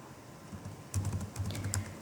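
Flutter code being typed on a computer keyboard, a quick run of close, soft key clicks starting partway in over a steady low room hum.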